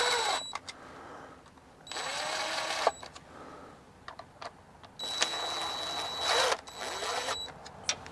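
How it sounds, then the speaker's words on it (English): An impact wrench snugs the transmission pan bolts on a 2006 Lexus RX330. It fires in several loud buzzing bursts of about a second each, separated by short pauses. "I just used the impact just to bring them up to snug."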